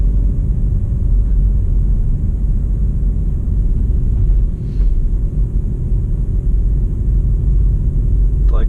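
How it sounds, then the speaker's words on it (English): Inside a BMW i3 electric car, a loud, steady low rumble drones continuously like an air compressor running, with no voices. "It literally sounds like an air compressor"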